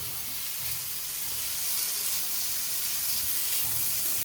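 Chicken pieces frying lightly in a small amount of oil, a steady broadband sizzle and hiss that holds evenly throughout with no voices.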